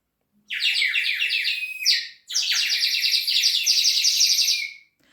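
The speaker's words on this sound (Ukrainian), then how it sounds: "спів пташок." Birds singing in two long bursts of rapid, bright chirping trills, close and clear against otherwise silent surroundings.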